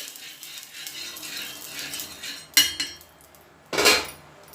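A metal utensil works ghee into maize dough in a bowl, giving two brief, sharp scraping clinks after a quiet stretch of faint background.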